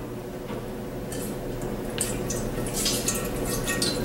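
Three gallons of water pour steadily into a container for making strawberry wine, a continuous close rushing splash that holds at an even level throughout, with no talking.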